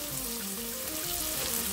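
Vegetables such as peas, potato, carrot and beans sauté in a pan with a loud, continuous close sizzle, alone with no voices.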